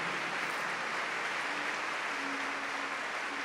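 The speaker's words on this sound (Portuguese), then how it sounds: "Vamos aplaudir essas mães em primeiro lugar?" A church congregation gives faint, distant applause for the mothers during a Catholic Mass, a steady, soft wash of clapping with no voices over it.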